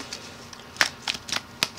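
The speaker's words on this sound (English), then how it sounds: "then I'll shuffle them both together" Magic: The Gathering cards being shuffled together, close and crisp, with a handful of quick riffling bursts in an irregular rhythm and no talk.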